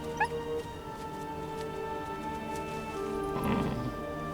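Wolf pups whimper and yip in the wild, giving high, thin calls with a brief sharp yelp at the start and a louder whining cry near the end over a steady background tone.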